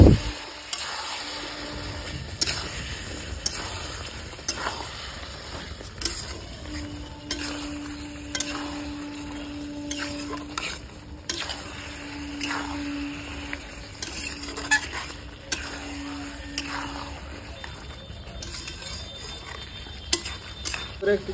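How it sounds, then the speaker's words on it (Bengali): Potatoes go into a simmering mutton gravy in a village-style kitchen, a steady low sizzle running beneath repeated scraping and stirring with a spoon, with occasional metal clinks against the pan and a voice talking now and then. "আলুটা দিয়ে দিচ্ছি"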